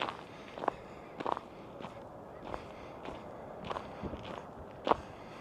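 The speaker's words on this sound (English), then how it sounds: "Crunch of the snow." Footsteps crunch through snow outdoors, a slow, steady series of soft, gritty crunches at close range, each step distinct with brief quiet gaps between, no talking.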